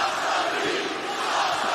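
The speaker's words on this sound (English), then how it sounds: "the crowd was vibing with Jade, too." Wrestling arena crowd in Brooklyn roaring and cheering during a SmackDown broadcast, a dense steady wall of voices loud and continuous throughout with no clear individual speech.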